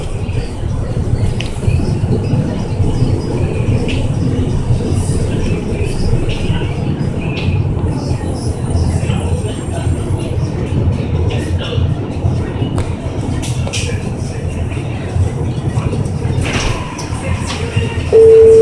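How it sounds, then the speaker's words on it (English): A Miami Metromover train rumbles and clatters along the rails at close range in downtown Miami, a continuous loud rolling noise with occasional squeals and knocks as it comes into First Street Station. "The train is approaching First Street Station."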